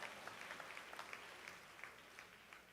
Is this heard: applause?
yes